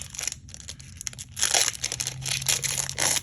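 A foil Magic: The Gathering Modern Horizons 2 booster pack being torn and crinkled open by hand up close, in short ripping bursts and crackles.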